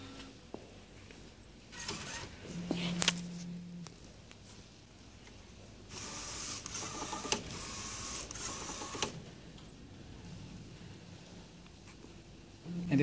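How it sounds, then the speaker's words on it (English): Print head of a Pangoo Jet A3 UV flatbed printer moving during a safety test, a faint mechanical whir and sliding hum with scattered clicks and thuds, rising to a louder stretch midway through the running sound. "Then the top printer will be start moving just for safety testing."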